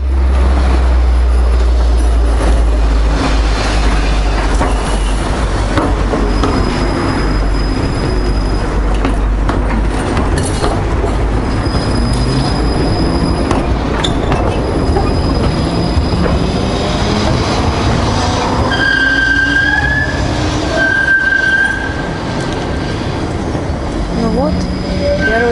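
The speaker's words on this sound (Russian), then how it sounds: "Трамвайчик, но не на той улице, да." A tram rolls through a street in Rostov-on-Don, a steady loud rumble of wheels on rail with brief high squeals and tones, continuous and close, with people talking over it.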